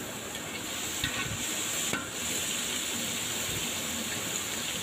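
Onions frying in a pan for chicken roast, a steady broadband sizzle with occasional scrapes of stirring, close and continuous with no voices.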